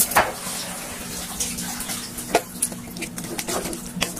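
Water is splashed into a hot pan of frying onions and chicken on a stove, producing a bright watery sizzle with a few sharp crackles and bursts, close and fairly loud, with no speech.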